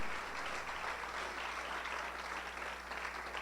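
A church congregation claps together during a Spanish-language worship service, a dense, steady wash of applause that holds evenly throughout with no voices over it.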